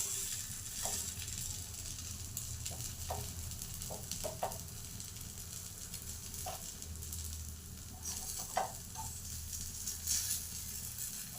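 Ponganalu frying in a pan and being turned: a soft, steady sizzle with scattered light clicks and scrapes of a utensil against the pan, faint and close, no talking.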